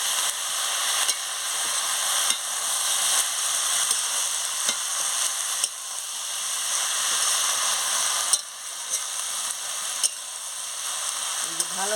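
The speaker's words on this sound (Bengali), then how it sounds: "খুলে ভালো করে নাড়িয়ে নিচ্ছি, যাতে আনাজগুলো ভালো করে সিদ্ধ হয়ে যায়।" Cabbage and fish head curry sizzles in a pan while being stirred, a steady loud frying hiss broken by regular scraping strokes of the spoon, with no voices.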